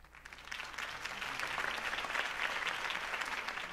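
A crowd at a campaign speech for Harvey Dent in Batman: The Telltale Series applauds steadily, the dense clapping building slightly and holding at moderate loudness.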